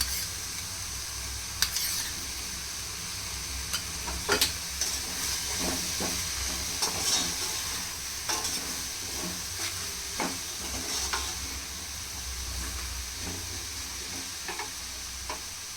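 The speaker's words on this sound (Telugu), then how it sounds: "ఇందులో కొంచెం పెరుగు వేసుకోవాలి." Curd stirred into a sizzling paneer vegetable pulao in a cookware pan, a constant hissing sizzle punctuated by repeated scraping spoon strokes at an uneven pace.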